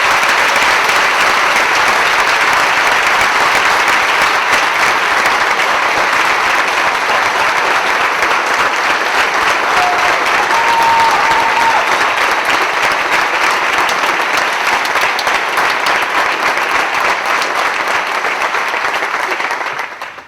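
Long, loud round of applause for the staff and students who performed at Patriotfest, dense steady clapping from a large audience that holds for about twenty seconds and then cuts off.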